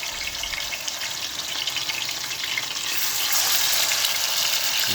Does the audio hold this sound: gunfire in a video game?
no